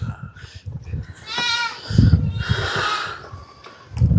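Goats on a farm bleat loudly and nearby, with two or three drawn-out wavering calls over shuffling and low rumbling noise from the pen.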